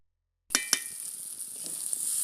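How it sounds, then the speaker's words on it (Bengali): Pulao rice frying with spices in a pan over a village clay stove, with two sharp stirring clinks near the start and then a steady, moderately loud sizzle with no talk. "এখন এই মশলার সাথে ভালো করে পোলাও চালটা ভেজে নিতে হবে"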